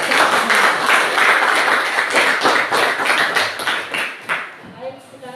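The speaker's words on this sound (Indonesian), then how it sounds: "kita kasih aplaus dulu ya untuk kelompok satu ya" A classroom group claps for the first presenting team, loud and close: a sustained burst of many hands that holds steady and then thins out toward the end, with voices mixing in.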